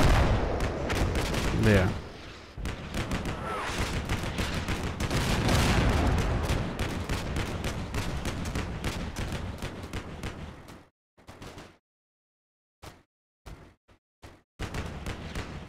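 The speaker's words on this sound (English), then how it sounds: "Bradley is just shooting up this wood" Bradley 25mm cannon fire in the Combat Mission Black Sea war game, dense rapid bursts of booming shots mixed with other battle gunfire for about ten seconds, then a quiet pause broken by a few short isolated bursts, with a brief spoken word.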